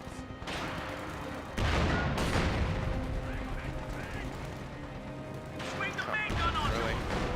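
Gunfire and artillery in a Company of Heroes 2 battle, made up of repeated sharp shots and heavy booms over a dense wartime din, with a voice talking at the same time.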